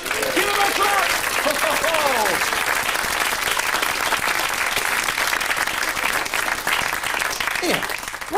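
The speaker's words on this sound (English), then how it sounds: "Give her a clap!" Audience applause after a sawing-someone-in-half magic trick at a Sooty stage show. Dense, sustained clapping fills the whole stretch, with voices calling out over it.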